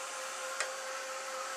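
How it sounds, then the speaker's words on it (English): Handheld craft heat gun drying paint on an art journal background, giving a steady, even blowing hiss with a faint click near the start, nearby and unchanging. "get my heat gun, craft gun, heat gun, and I'm going to dry it"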